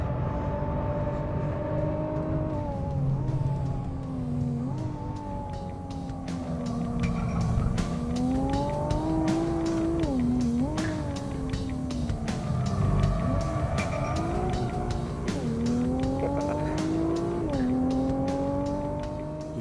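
A Formula race car runs flat out through a fast corner, its loud, continuous engine note rising and dipping in pitch as it holds speed, close and steady for about twenty seconds with no talk.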